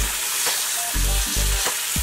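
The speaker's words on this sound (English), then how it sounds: "after the tofu looks nice and brown, kind of like this guy, you're gonna wanna go through and flip all of your tofu" Firm tofu frying in a pan, a loud, close, continuous sizzle with a few low thumps and bumps as pieces shift, no voices.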